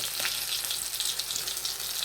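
Ginger paste and cumin powder sizzle and fry steadily in a hot pan, a continuous close crackling hiss with small spatters throughout and no talking.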